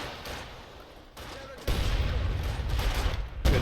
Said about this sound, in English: Stuka firing in on the right-hand side.